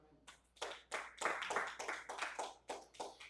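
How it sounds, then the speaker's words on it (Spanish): A church congregation claps in a loose, uneven burst of individual hand claps, fairly close, rising quickly then continuing in irregular beats for a few seconds. "Denle un aplauso al Señor."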